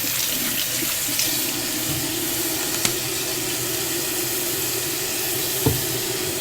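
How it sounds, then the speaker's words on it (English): Steady running tap water pours into a kitchen sink as hands are washed while baking cookie bars, a continuous broadband hiss with a few small splashes and clinks, close and alone. "Maybe like give my hands a really good wash here."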